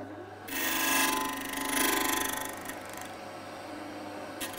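An electric sander whirs up twice with a buzzing, rasping tone, sanding into the corners of a wooden pencil box, then winds down to quieter background hum.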